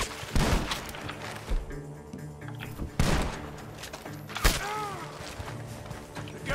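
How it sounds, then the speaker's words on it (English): Gunfire rings out from a barn in a western-style video game, with a rapid burst of shots, loud and sharp, followed by further single reports and clatter over a busy background. "The gunshots are coming from that barn."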